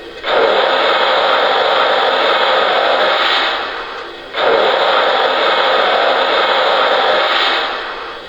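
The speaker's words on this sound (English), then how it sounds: "And now I'll show you the blow off and water fill." Steam blow-off hiss from a Lionel Legacy Pennsylvania B6sb model locomotive, two loud sustained bursts of broadband hiss, each lasting about four seconds with a short gap between.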